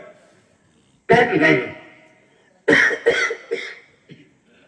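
Two bursts of harsh coughing, close and loud, the second a run of several quick coughs trailing into a faint final hack.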